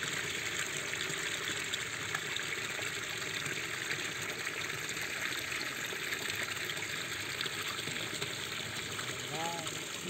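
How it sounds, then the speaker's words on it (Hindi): Spring water streams steadily from two stone bull-head spouts at a Mahadev temple near Bilaspur, Chhattisgarh, with a third central flow, making a continuous broadband gush heard close up throughout, with faint voices in the background. "दू ठक बैला के मुँह पानी निकलत है"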